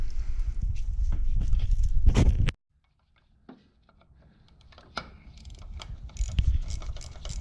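Ratchet clicking on an 8mm bolt at the back of the crank angle sensor on a Z31 300ZX, loud and close in a busy burst, a pause, then more mechanical clatter.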